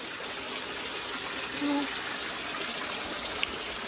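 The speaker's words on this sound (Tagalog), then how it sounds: "Shower!" Steady broadband hiss of a shower running at a beach, constant water spray filling the space with a faint murmur of a voice in the background.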